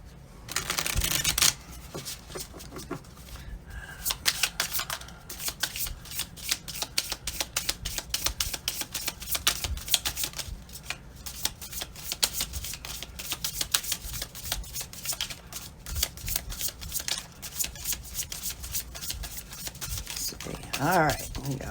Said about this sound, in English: Let me just shuffle those up a couple times.